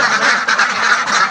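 Dense, continuous quacking from a crowd of ducks on a village duck farm, loud and close, with overlapping calls filling the whole moment and no pauses.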